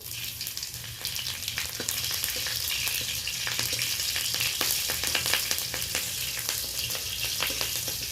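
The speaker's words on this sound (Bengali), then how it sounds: "আমি 1 চামচ 5 ফোড়নই দিলাম, আর কয়েকটা আধা চেরা কাঁচা লঙ্কা দিয়ে দিলাম।" Panch phoron spice mix and slit green chillies frying in hot oil, producing a loud, dense, continuous sizzle with rapid crackles and pops throughout, close up and without speech.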